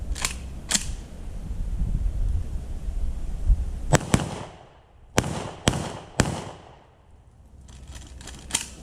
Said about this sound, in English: I was just running some high brass birdshot loads there